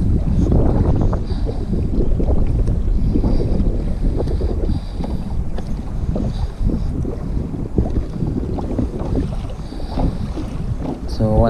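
Choppy waves slap steadily against a kayak's hull under heavy wind buffeting, with no clear voices.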